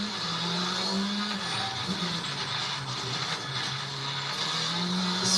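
A rally car on a stage brakes hard into corners, its engine note rising and falling in bursts over steady road and tyre noise, with the wheels briefly locking.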